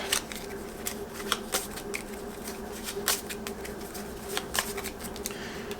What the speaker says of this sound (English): We shuffle these up.